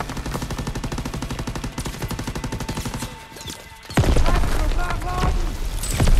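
Call of Duty WW2 D-Day battle with rapid, loud machine-gun bursts in steady rhythm, a short lull, then a heavy grenade blast followed by more gunfire and scattered battle noise.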